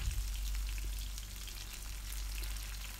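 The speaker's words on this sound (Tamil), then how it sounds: "தக்காளி சேர்த்துட்டு நல்லா வதக்கிக்குங்க." Chopped tomatoes sauté in hot oil in a pan for a garlic kara kuzhambu, making a steady, dense sizzle with fine crackling, close and even with no pauses.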